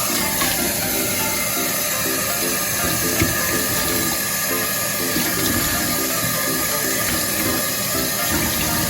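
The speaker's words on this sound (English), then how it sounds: "let's wash the cinnamon leaves" Running water splashes and gurgles steadily as cinnamon leaves are rinsed under a flowing tap, with a constant hiss throughout.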